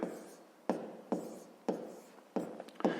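Pen strokes on paper as numbers are written out for a fifth-grade math exercise, five or six short scratchy bursts spaced about half a second apart, close and quiet.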